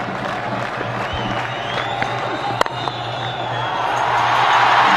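Cricket stadium crowd at a 1999 India v Pakistan one-day match in Sharjah, a broad steady roar of cheering and applause that swells louder toward the end, heard alone without nearby talk.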